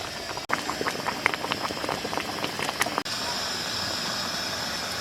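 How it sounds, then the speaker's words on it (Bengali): Ridge gourd bhapa boils on a gas stove, a steady bubbling and spluttering hiss with dense little pops, fairly close and continuous. "দেখুন বন্ধুরা কি সুন্দর টকবক টকবক করে ফুটছে"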